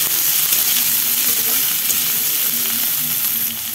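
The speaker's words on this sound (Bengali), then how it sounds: "পেঁয়াজটা দিয়ে দিচ্ছি, আর একটু আদাও দিয়ে দিচ্ছি" Finely chopped onion and ginger fry in hot oil with a loud, dense, close-up sizzle that holds steady throughout, with faint stirring underneath.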